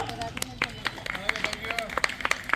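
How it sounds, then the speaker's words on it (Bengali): A crowd of people clapping for a child named Rajin at a resort in Gazipur, with scattered irregular claps and a few sharper ones, under background chatter and speech. "সবাইকে হাততালি হবে রাজিনের জন্য।"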